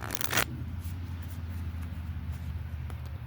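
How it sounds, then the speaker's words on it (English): A brief burst of tarot card shuffling at the start, then steady low hum and faint rustles with no talking. "I will go ahead and shuffle the cards 3 times"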